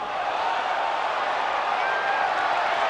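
Baseball stadium crowd roaring after a home run by Albert at a Cardinals–Padres game, a dense, sustained wall of cheering that stays loud and even with no breaks.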